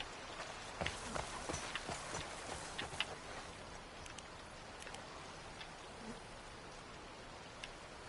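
Horse hooves from the video game The Last of Us Part II, a soft, faint clip-clop of steps set against a steady rain-like hiss, with no talking.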